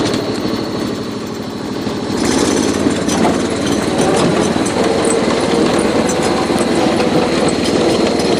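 A John Deere 111 lawn tractor with a 38-inch deck drives along, pulling a cart, its small engine running steadily and close, with a rise in loudness about two seconds in.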